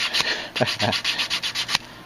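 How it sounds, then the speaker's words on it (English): Steady rhythmic rubbing strokes of sandpaper on wood, repeating roughly every quarter second, close and fairly loud with no talking. "So make sure you get all this area here sanded."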